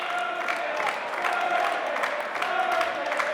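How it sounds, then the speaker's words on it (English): Crowd at an indoor cricket final between Australia and New Zealand cheering and clapping continuously, a dense roar of voices and applause throughout, moderately loud with a bit of chatter mixed in. "Crowd really getting into this game now."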